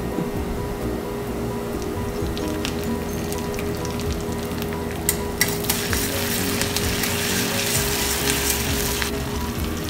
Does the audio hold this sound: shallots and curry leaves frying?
yes